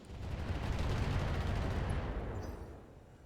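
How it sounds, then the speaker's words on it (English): In the mech game Battletech, a missile volley unleashes a dense roaring barrage of rapid launches and blasts that swells loud, then fades out over a few seconds. "40 missiles, some will hit"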